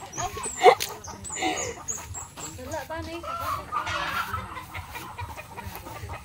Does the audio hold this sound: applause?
no